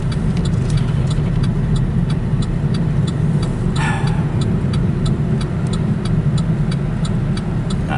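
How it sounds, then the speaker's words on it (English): Windshield wiper blades on a car driving through a lake effect snowstorm, stuck at full speed, sweep in a steady, rapid rhythm of regular ticks over a loud, constant engine and road rumble. "I gotta fix this problem with the wiper blades. See, they're full speed or nothing."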